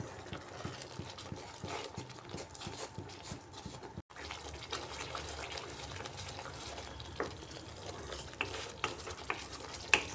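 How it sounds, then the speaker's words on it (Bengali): Potato curry masala sautés in a pan as a spoon scrapes and stirs with steady knocking strokes, close and fairly quiet, with one brief silent break. "এবার একটু সময় এটাকে আমি কষিয়ে নিচ্ছি।"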